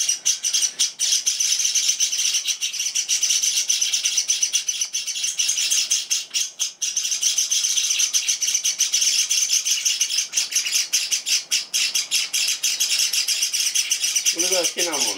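Java sparrows kept indoors chirp and tweet almost without pause, a dense, bright run of close, high calls that keeps going throughout.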